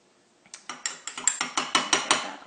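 A spoon scraped to clear off a water-free face wash: a quick run of about ten sharp, rhythmic clicking scrapes, close and fairly loud, with no talking.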